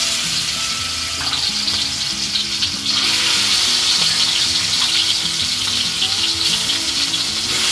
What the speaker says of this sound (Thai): ผัดพริกแกงของเราให้สุกด้วยนะครับ ให้สุกหอมเลย